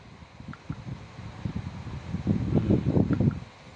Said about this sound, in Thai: ถอดออกมันก็เป่าได้เหมือนพัดลมปกตินะครับ